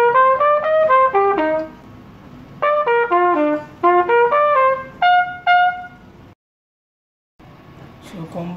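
A horn plays the fourth phrase of the intro to a highlife tune in short, bright melodic runs with pauses between them, followed by a brief silence and some faint background noise.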